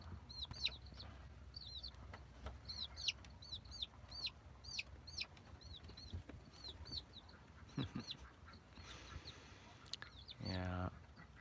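Live baby chicks cheep in quick bursts of high, thin peeps, close and fairly quiet, repeating in clusters over soft background noise with a brief rustle near the end.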